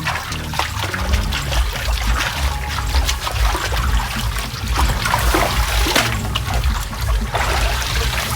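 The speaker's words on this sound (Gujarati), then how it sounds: "પાટલી ધોઈ દીધી હા." Water pours and splashes over a wooden board as it is rinsed, making a steady close trickle with scattered splatters and sharp drips throughout.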